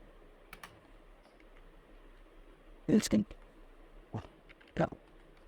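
Keys tapped on a computer keyboard while typing into an MS Word admission form: a few scattered, close clicks in short clusters with quiet gaps, over faint room hiss and without speech.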